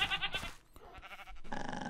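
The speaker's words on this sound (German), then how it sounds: "Da höre ich jemanden grunzen." A creature in the Minecraft video game lets out short, tonal, bleating grunts in quick succession, close and fairly clear, heard alone.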